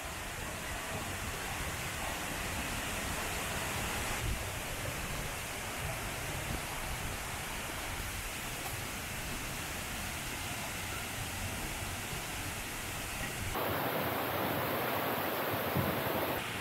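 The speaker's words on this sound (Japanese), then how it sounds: "これが雲井の滝。" Kumoi Falls, a waterfall in Oirase Gorge, roars as a steady broadband rush of falling water, constant and enveloping with no voices over it.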